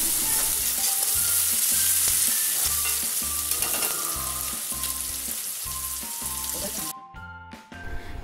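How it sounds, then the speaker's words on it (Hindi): Chopped onions and curry leaves fry in hot oil in a pan for a dahi bhindi dish, giving a loud, continuous sizzle throughout that briefly thins near the end as the pan is stirred. "अब हम इसमें डाल देंगे प्याज को। अब इसे हम थोड़ा सा फ्राई कर लेंगे।"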